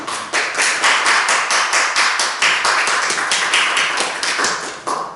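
A church congregation claps at the close of a service, a loud, steady stream of many hands keeping a loose, fast rhythm throughout, close and unbroken by talk.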